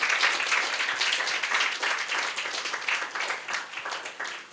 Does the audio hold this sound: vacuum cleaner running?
no